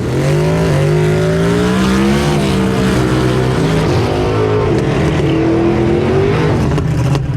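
A Ford Mustang race car on a drag track, its engine loud and close with a droning, steadily rising exhaust note that fills the whole stretch with no talk.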